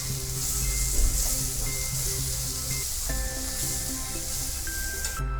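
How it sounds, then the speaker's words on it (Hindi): Spice masala with salt roasting in a hot pan while udad dal karele are cooked, giving a steady bright sizzle and hiss with occasional stirring scrapes close by. "अब हम इसको भूनेंगे।"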